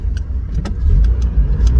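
A Mazda MX5 drives flat out along winding Isle of Wight roads, its engine a close, steady low rumble with faint road noise and no talking.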